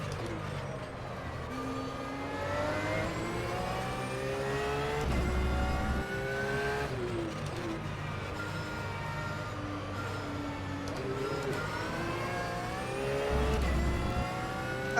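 A race car engine in a racing video game drones and revs through repeated gear changes, pitch sweeping up then dropping, steady and moderately loud throughout with no talk.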